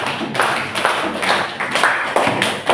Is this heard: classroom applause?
yes